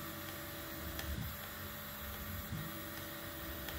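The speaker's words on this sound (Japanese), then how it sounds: "普通というか安い 3D プリンターはピーピーといった感じでなります。" A cheap 3D printer's stepper motors whine and buzz steadily beside a constant hum, with faint high beeps at intervals, quiet and close.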